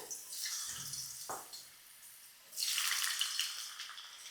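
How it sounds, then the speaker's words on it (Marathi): Hot oil sizzles, first softly, then bursting into a loud, steady crackle as potato pieces go into the pan, with a brief clatter partway through. "आता यामध्ये बटाट्याच्या फोडी आहेत त्या थोड्याशा फ्राय करूया"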